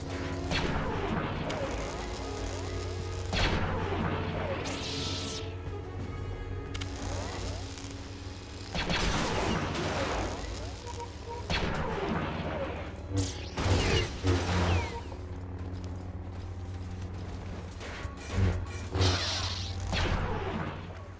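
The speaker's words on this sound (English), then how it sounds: "Big explosion." Explosions and crashing blasts erupt in the video game Star Wars The Clone Wars Republic Heroes, several loud bursts scattered among whooshes and mechanical battle sounds, with a voice talking at times.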